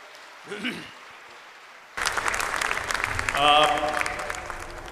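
Audience applause at Tomorrow's India Global Summit breaks out after a brief quiet stretch with a faint voice, then fills the hall as steady, moderately loud clapping with a short swell near the end.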